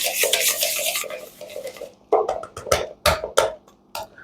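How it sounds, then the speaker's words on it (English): Butter and sugar creamed with a whisk in a bowl for eggless gingerbread cookies make a scraping swish for about two seconds, then a series of sharp, close clinks and scrapes in irregular bursts. "we will just need to cream it for around 1 or 2 minutes, and we will have creamed sugar and butter"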